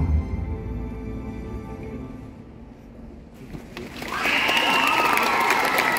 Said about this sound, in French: On les applaudit bien fort, notre couple tragique.